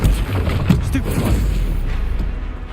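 Stupefy spell cast in a wizard video game, heavy booming blasts with a rumbling, noisy tail, sustained and loud throughout.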